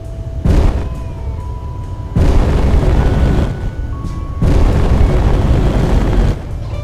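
Heavy booming explosions and weapon fire in a space combat video game, with loud sustained rumbling blasts separated by brief gaps and no voices.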